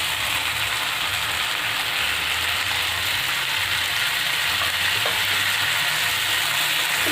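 Spinach paste stirred into a spice masala frying in a pan, giving a steady, dense sizzle with faint scraping, close and constant throughout.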